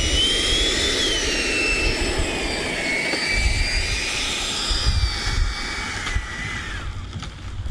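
A Freewing F-15 90mm electric ducted-fan RC jet roars steadily overhead with a high whining tone that sweeps in pitch as it passes, loud and continuous with no talking.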